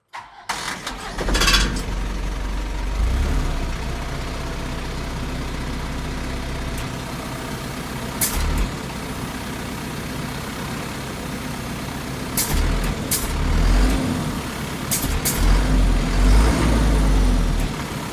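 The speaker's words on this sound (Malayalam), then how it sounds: "നമുക്ക് ഈ വാഹനം ഒന്ന് സ്റ്റാർട്ട് ചെയ്ത് ഇതിൻ്റെ എൻജിൻ സൗണ്ട് എങ്ങനെയുണ്ടെന്നൊന്ന് നോക്കാം." A BharatBenz 1217 truck engine cranks and catches right away, then settles into a loud, steady diesel idle with a few sharp air hisses and short revs near the end.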